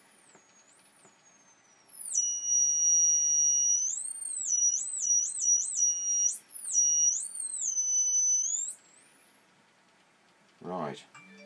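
A split core transformer circuit oscillates, producing a high, whistling electronic tone that glides and warbles up and down for several seconds, fairly faint against quiet background hum, followed by a short buzzing burst.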